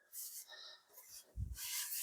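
A wooden drawer of a Deadwood Atelier hobby box slides out, giving a brief soft rubbing scrape of sanded wood on wood, close and quiet, with a short low bump near the end.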